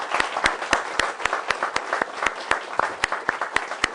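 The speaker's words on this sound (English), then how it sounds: "a round of applause" Audience applause at a climate change school session: a sparse, uneven patter of individual hand claps, fairly close and moderately loud, with no voices over it.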